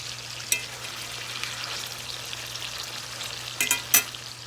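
Steady, hissing sizzle of pork chops frying in coconut oil in a pan, close by, with a few louder pops and spatters toward the end.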